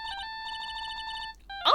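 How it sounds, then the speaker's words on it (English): A lost cell phone rings in a video game, playing a bright electronic ringtone as a steady run of quick repeated beeping pulses that stops abruptly, followed by a brief louder burst. "All of a sudden, the phone began to ring."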